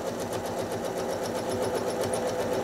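A sewing machine stitching quilting lines on a square block, a fast steady motor hum with rapid needle clatter, close and continuous.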